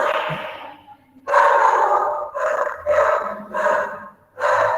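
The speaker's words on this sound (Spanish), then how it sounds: "me disculpan el perrito, a veces me acompaña en este tipo de sesiones, espero que no genere ruidos significativos" A small dog barks loudly and close in an indoor room, five sharp barks in a row with short gaps between them.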